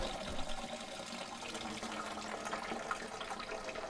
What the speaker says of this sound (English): the water will drain out and into the bucket.